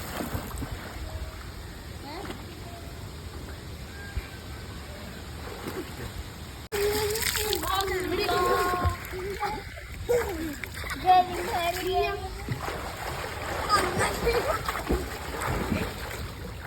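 Water splashing in a pond as someone swims, with sloshing and splatter that grows livelier partway through and voices talking over it.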